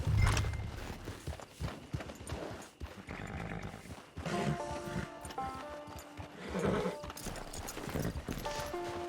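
Horse sounds in Red Dead Online with a neigh and clip-clop hooves amid game ambience and music, moderately loud, with faint talk at times.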